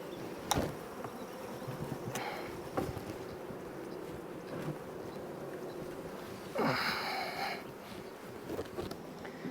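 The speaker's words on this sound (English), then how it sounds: "there's a lot of bees in here" Honey bees buzz in a dense, steady drone inside an opened, struggling hive, with sharp cracks and knocks from the hive boxes being pried apart and a brief louder swell of buzzing near the end.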